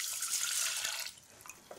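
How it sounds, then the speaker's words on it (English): Cold water pours into a pan holding basmati rice, a bright steady splashing gush that eases off into lighter trickles and drips near the end, close by with no talking. "add 200 millilitres of cold water"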